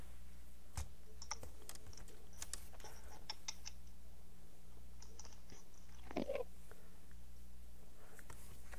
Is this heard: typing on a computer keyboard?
yes